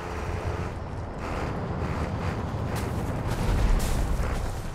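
A mounted turret fires in a first-person shooter game in a series of heavy, booming blasts over a constant windy rumble, with a few sharper cracks standing out.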